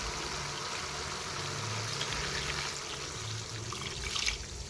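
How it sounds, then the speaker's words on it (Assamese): Water poured into a pot of fish curry with green peas and cauliflower, a steady close splashing pour running for several seconds without talk. "ইয়াতে এতিয়া মই আৰু অলপ পানী এড কৰি দিম।"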